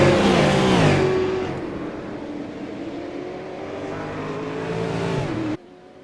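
Super Late Model race cars on the oval at Milwaukee Mile roar loudly and continuously, one engine note sweeping past up close before fading into a steady pack drone that cuts off sharply near the end.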